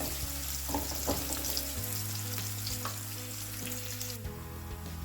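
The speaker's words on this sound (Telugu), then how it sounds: "ఈ ఆనియన్స్ గోల్డెన్ బ్రౌన్ కలర్ వచ్చేంత వరకు బాగా వేయించాలి." Onions frying in a pan for Andhra-style bottle gourd curd pachadi, cooking toward golden brown: a close, steady sizzle with occasional stirring scrapes and a low background hum, no voices.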